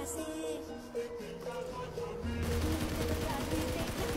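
Gunfire in the mobile battle royale game PUBG Mobile, heard as sustained rapid shots under background game sound and tones, growing denser and louder in the second half.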